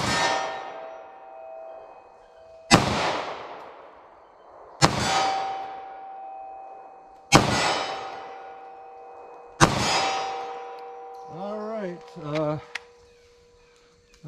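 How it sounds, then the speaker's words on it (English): Four loud, sharp 9mm handgun shots fired at 25 yards on an outdoor range, evenly spaced a couple of seconds apart, each ringing off into a long decay, followed by a short stretch of speech at the end. "Let's shoot from 25 yards, see how these rounds will do for accuracy."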